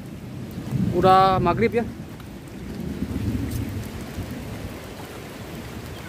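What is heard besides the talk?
heavy rain and thunder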